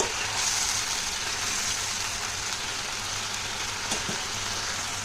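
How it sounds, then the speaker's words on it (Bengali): Spice paste with turmeric and salt sizzling steadily in a hot pan, a continuous close hiss with a faint low hum underneath and a brief stir near the end. "তো এর মধ্যে অল্প হলুদ দেব আর অল্প নুন। তো এবার মশলাটা কষিয়ে নেব"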